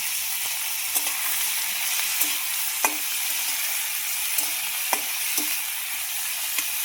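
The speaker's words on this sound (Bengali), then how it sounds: "পেঁয়াজটাকে এখন জোরে আঁচে করে ভালো করে ভাজবো। তার মধ্যেই আমি দিয়ে দেবো এই দেখো সবজি কেটে রেখেছিলাম, গাজর, কুমড়ো আর আলু, ওটাও পেঁয়াজের সাথে ভেজে নেব।" Onion, carrot, pumpkin and potato fry over high heat in a steady, close hiss, with soft scraping clicks of stirring every second or so.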